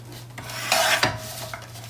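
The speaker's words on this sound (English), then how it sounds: "I'm going to lay it in the trimmer as is, and you can see it's just a little bit long here." A paper trimmer cutting cardstock gives a short rasping slide near the middle, close and brief, over a low background hum.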